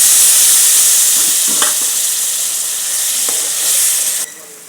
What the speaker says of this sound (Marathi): मसाला आपला छान गरम भाजलेला आहे आपण मिश्रण भाजायचं